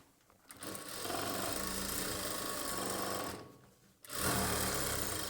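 A sewing machine stitches a churidar bottom in a fast, steady whirring run for about three seconds, stops briefly, then starts again louder; close up with no talk.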